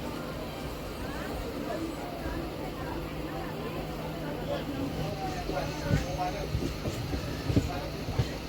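A Bardhaman–Katwa local train rumbles along with a steady low roar and faint rhythmic clatter, and a few louder knocks come toward the end while people talk over it.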